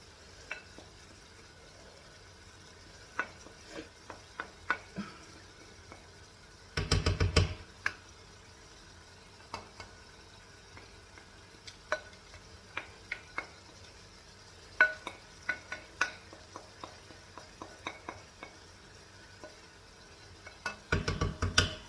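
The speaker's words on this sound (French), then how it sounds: "On va mélanger tout ça" A spoon stirs chicken drumsticks and spices in a pot, making sparse clinks and scrapes with two louder bursts of rapid stirring, quiet and close, with no talking.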